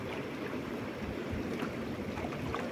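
Strong current of the Dawki river rushing past a boat, a steady, fairly faint broadband wash of flowing water with no breaks and no talking.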